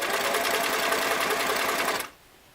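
A restored Singer Model 337 sewing machine runs zigzag stitches at stitch length 8, a steady, close, rapid mechanical whir lasting about two seconds before stopping abruptly.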